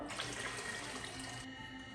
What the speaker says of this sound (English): Now we can put the water